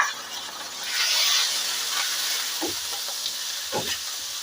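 Small boneless chicken pieces sizzle steadily in a hot pan for shami kebabs, a continuous broadband hiss with a couple of soft stirring knocks, close and fairly loud, no voices.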